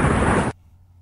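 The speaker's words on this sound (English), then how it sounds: "Where did the explosion come from?" Loud explosion sound effect in a fantasy story reading, a dense broadband roar lasting about half a second that cuts off abruptly into near silence.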